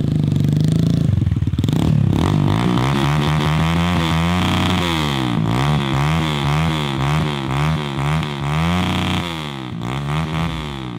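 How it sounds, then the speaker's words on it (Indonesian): A motorcycle engine is revved hard and close, its pitch rising and falling in repeated throttle blips over a steady loud idle, with a rough clattering start. "Mesti kali kau geber-geber kereta kau itu, Jo."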